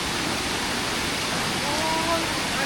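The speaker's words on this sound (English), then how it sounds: "And then we have another small creek or waterfall." A small creek or waterfall on the El Tigre hike in the Monteverde cloud forest, heard as a steady, close rush of broadband water noise with no talk.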